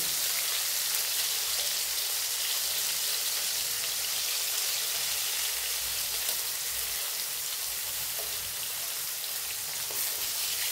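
Bitter gourd frying in oil in a pan with turmeric: a steady, even sizzle with fine crackle that goes on unbroken at moderate loudness, with no voice over it.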